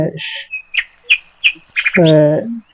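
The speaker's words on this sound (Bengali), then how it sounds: "পাখিদের কিচিরমিচির ডাকাডাকি" Small birds chirp and tweet in leafy trees in rural Bangladesh, a few close bright calls in quick succession before a longer harmonic call near the end.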